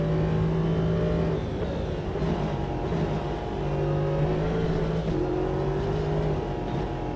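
A race car engine in the Automobilista 2 racing simulator (version 1.6) drones steadily and loudly, its pitch climbing and then dropping at gear changes around the two- and five-second marks.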